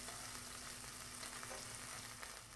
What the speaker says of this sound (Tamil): வெங்காயத்தை போட்டு நல்லா வதக்குங்க.